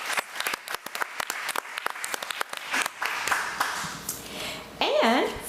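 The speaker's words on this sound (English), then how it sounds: "another round of applause" People at a school board committee meeting clap for an honoree, starting with a few scattered, distinct claps that swell into fuller applause, with voices calling out near the end.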